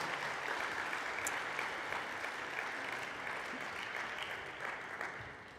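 A poetry evening audience applauds in honour of the poet Carmen Jodra, a steady, dense wash of clapping holding at moderate level throughout and thinning slightly near the end.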